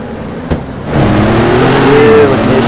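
A 1960s Formula 1 race car roars loudly and close at a vintage race, engine note rising and holding as it accelerates past, with a sharp transient just before.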